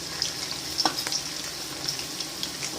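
Dried red chillies fry in hot oil with garlic for tamarind rice, giving a soft, steady sizzle with small crackles and pops close by, no voices.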